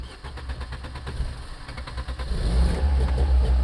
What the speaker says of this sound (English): Let's see if it's going to start up, because it has not been driven in quite a while.